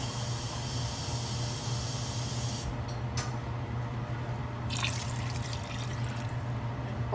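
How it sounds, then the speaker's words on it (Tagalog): Broth is poured into a simmering pot of chicken sinampalukan soup, a steady liquid hiss and gentle splashing over a low, constant hum, with a couple of brief clinks partway through and no talking. "dadagdagan ko po ng konting sabaw para po hindi siya gaano"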